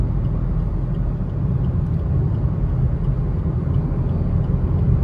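Car cruising on the Yamuna Expressway in fog. A steady, loud low rumble of engine and road noise fills the interior and holds constant throughout, with no talk over it.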